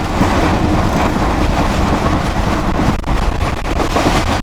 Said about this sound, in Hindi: ट्रेन हमारी जंका रेलवे स्टेशन को स्किप करने के लिए दौड़ रही है आगे।